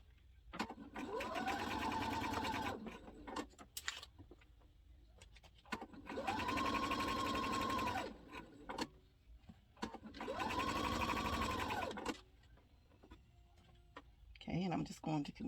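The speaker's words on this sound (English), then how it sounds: "my sewing machine, the pressure foot raises up every time I stop so I can pivot" Sewing machine stitching a fabric memory bear, three sustained whirring runs of several seconds each with pauses between, as the presser foot lifts for pivoting; someone talks during the gaps.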